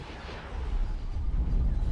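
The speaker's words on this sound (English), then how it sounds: "Trying to get some roll on there so we can get the other sides of the guns firing." Heavy turbolaser cannons of a Victory II star destroyer firing in X4, a dense, continuous low rumble of overlapping booming shots that swells louder toward the end.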